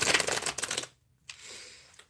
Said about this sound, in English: I think we've got a pretty good shuffle going.